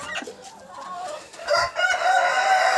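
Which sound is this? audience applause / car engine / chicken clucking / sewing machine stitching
chicken clucking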